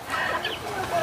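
A backyard chicken clucks in brief, soft bursts at close range. Thin chirps mix in over a steady background.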